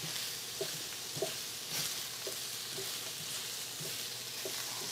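Shrimp sautéing in a pan with chili powder give a steady, close sizzle, with soft stirring scrapes and small pops scattered throughout and no talking.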